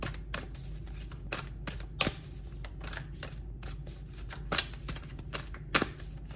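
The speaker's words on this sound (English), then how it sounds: "Let's put them back and shuffle again, they said." A deck of playing cards shuffled close by, a steady papery riffle and flutter with a few sharper snaps of cards striking the table, continuous for several seconds with no talking.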